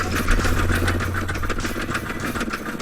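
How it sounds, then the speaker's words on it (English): A steady mechanical engine drone from a Scrap Mechanic game engine, with a rapid, rhythmic clatter, running continuously at moderate loudness with no voices. "And then we'll turn our engine up."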